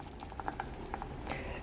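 Escarole and beans simmer uncovered in a hotpot, giving soft scattered bubbling pops over a steady low hiss, with no one speaking.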